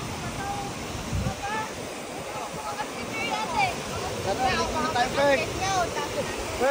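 Pocono Falls pours with a constant rushing hiss of falling water, while several people talk and call out over the steady roar.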